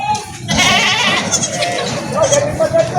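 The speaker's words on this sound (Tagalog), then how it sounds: "Mga mag-iinahang kambing." Mother goats for sale at a crowded livestock market in Padre Garcia, Batangas, bleat amid dense crowd chatter and nearby voices, one wavering call rising clearly above the din near the end.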